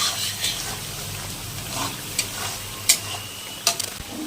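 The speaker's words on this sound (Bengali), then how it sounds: "মশলা এখন এটাকে এরকম করে ভাজা ভাজা করে নিয়ে কষিয়ে নিয়ে" Spice paste for a pabda fish mustard curry stir-fried in oil in a pan, a steady close sizzle with scraping stirring strokes and a few sharp spattering pops, no voices.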